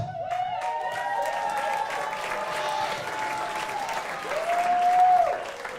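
Wedding guests clap for the matron of honor in a room, a sustained round of applause lasting several seconds, swelling toward the end with a few whistles and voices over it.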